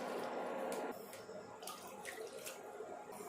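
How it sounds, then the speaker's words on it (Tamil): Half a cup of water splashes from a vessel onto jaggery in a pan, a close, loud gush lasting about a second, then fading into soft trickling and bubbling. "1/2 கப்பு தண்ணி ஊற்றிக்கலாம்."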